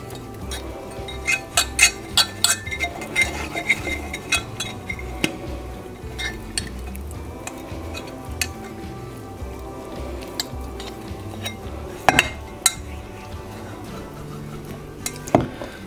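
Oil paste being rubbed by hand into a small metal stew pot during rust removal, heard as soft wiping and scraping with scattered sharp metallic clinks and knocks, close and fairly quiet.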